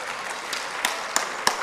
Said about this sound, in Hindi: तो तालियां जोरदार बनती हैं।